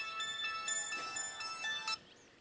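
A mobile phone rings with a bright, tonal ringtone melody playing in quick repeated notes close by, then stops abruptly before the end.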